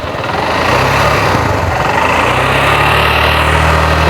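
TVS Metro 100c motorcycle engine running up close and loud, a steady buzzing drone that rises slightly as it settles into an even idle, with no talk over it.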